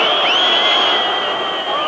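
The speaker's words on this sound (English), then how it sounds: "Crowd don't like it, but Jim Fleming had no hesitation." A rugby stadium crowd at England versus Argentina in the 1995 Rugby World Cup reacts to an offside call with a sustained, far-off roar of jeers and whistles. A few rising whistle tones cut through the noise.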